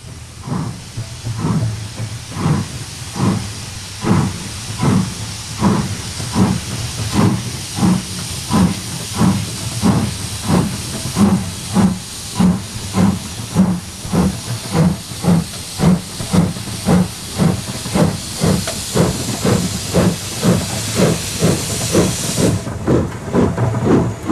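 LMS Jubilee Class steam locomotive Bahamas setting off from Keighley, its exhaust chuffing in a steady, loud rhythm over a constant hiss of steam, the beats holding an even pace throughout.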